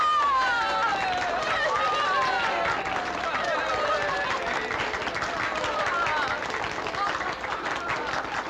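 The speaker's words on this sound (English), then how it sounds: "Here's the one they should clap for." A crowd claps steadily and continuously for Madame Claudia Micheline in a World War II drama scene, with dense applause filling the space and voices mixed in.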